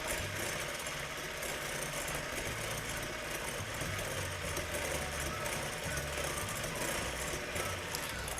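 A stand or hand mixer whirs steadily while sugar is gradually beaten into meringue, a continuous close motor drone with a steady rhythmic beat that runs unbroken from start to finish.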